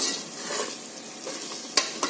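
Chilli powder sautéing in hot oil for chicken biryani gives a soft, steady sizzle with gentle stirring scrapes and a couple of sharp clicks near the end, close by with no talk.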